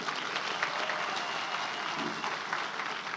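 Audience at the official national launch of the Lenacapavir rollout in South Africa applauds steadily, a dense wash of many hands clapping at even loudness throughout, with no voices rising above it.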